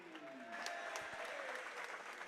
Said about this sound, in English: Big round of applause for